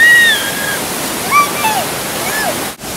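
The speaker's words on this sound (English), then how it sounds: "This waterfall, it's amazing." Steady rushing water of a waterfall fills the scene, with a few high bird chirps over the broadband roar.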